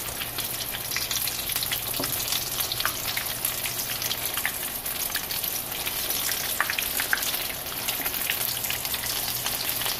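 Potato kababs (aloo tikki) fry in a pan with a dense, steady crackling sizzle like light rain, close and unbroken for about ten seconds, with no voices.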